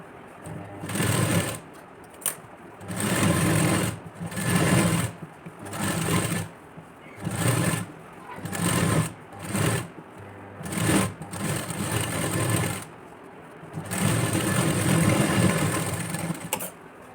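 A sewing machine stitches a padded blouse of 31-inch chest size in repeated close bursts of rapid whirring, separated by short pauses, steady and alone without talk.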